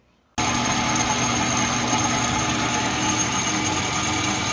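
An old lathe starts up turning a 3/8 steel pipe nipple into shock bushings: after a brief quiet moment the machine kicks on abruptly into a steady, loud, humming drone with a constant whine, running evenly throughout.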